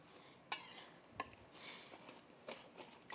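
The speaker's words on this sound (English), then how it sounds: "I'm going to go ahead and stir it this time" A spoon stirring pumpkin into pie filling in a bowl, producing soft, irregular clinks and wet scraping sounds, quiet and close.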